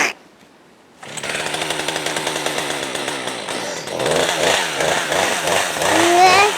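A chainsaw starts up after a brief quiet moment and runs loudly, its engine revving and surging steadily.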